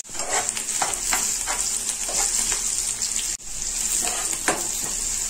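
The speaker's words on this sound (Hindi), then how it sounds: "प्याज को फ्राई करेंगे" A large onion fries in sweet oil with half a spoon of cumin and a bay leaf for chole matar masala, giving a steady close sizzle broken by repeated stirring scrapes, with no talk.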